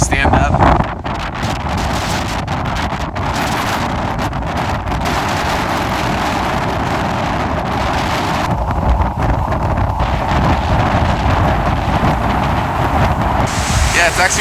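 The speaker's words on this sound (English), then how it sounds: "it's a little windy here." Wind buffets the microphone near the water in Madrid, a loud continuous roar with gusts, while a person talks over it throughout.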